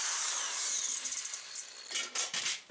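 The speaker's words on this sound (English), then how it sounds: "So I'm just going to go ahead and start drilling them out." A power drill boring out rivets on a metal PC case, a high whining grind that holds steady and then breaks into short stuttering bursts as the bit bites through, close and alone.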